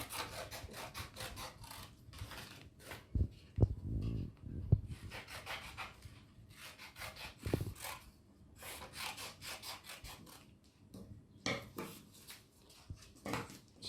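Scissors cutting a squirrel tail template, likely from paper or card for a school craft project, with irregular rubbing and snipping scrapes and a few sharp clicks, close by and moderately quiet, no talking.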